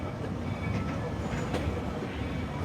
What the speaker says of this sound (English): As we are approaching Main Street Station, please stay seated until the train comes to a full and complete stop